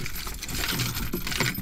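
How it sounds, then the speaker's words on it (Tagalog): Keys jangle in a hand while getting ready to drive out onto a busy highway, a continuous metallic clinking close by with low background rumble and no talking. "Handa na natin yung susi."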